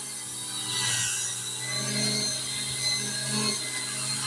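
A neighbor's weed whacker cuts grass in a yard some distance away, a steady buzzing whine with slight swells in pitch and level as the string bites.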